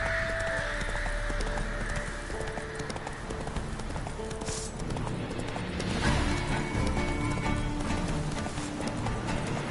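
Roach, Geralt's horse in The Witcher 3: Wild Hunt, gallops with a steady, close clip-clop of hooves, and a brief whinny breaks through amid game ambience.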